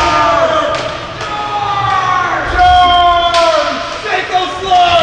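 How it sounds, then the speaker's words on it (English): Fans cheer and shout at a roller hockey championship game in a small venue, the crowd voices rising in waves over steady arena noise with occasional thumps. "Hearing some cheering from the fans tonight."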